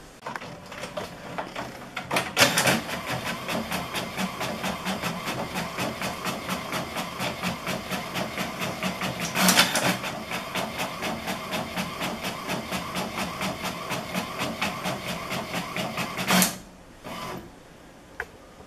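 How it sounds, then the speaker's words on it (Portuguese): An inkjet printer prints a page of text in gray ink, giving off a long run of fast, even mechanical clicking and whirring, broken by a few sharper carriage clunks near the start, middle and end, with no speech. "vou colocar para imprimir"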